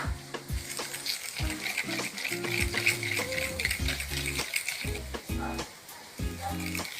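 A marinade with black pepper powder is stirred in a bowl, giving rhythmic knocking and scraping strokes in short bursts over a faint hiss.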